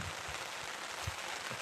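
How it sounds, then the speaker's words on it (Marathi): Steady rain patters across an outdoor photoshoot location where the ground is already waterlogged, a continuous broadband hiss of drops on surfaces with a few low thumps, no talking. "पाऊस पण आलाय बघ"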